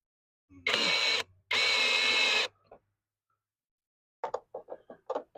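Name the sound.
driving hex screws to mount a light plate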